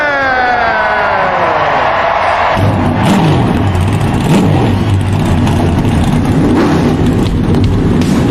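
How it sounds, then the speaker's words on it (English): A NASCAR race car engine cranks and fires up, then revs hard in repeated rising and falling bursts before settling into a loud, rough, close-up roar that fills the whole stretch with no talking. "start your engine!"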